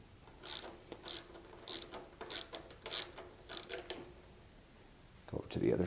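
A ratchet wrench with a 10 mm socket tightens the chain adjuster bolts on a Monster Moto MM-X70 minibike, giving about seven evenly spaced clicking bursts close up, then a louder clatter at the end.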